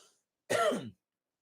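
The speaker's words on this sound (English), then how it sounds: "Man, I'm coughing." A single short, close throat-clearing cough, loud and abrupt, surrounded by quiet.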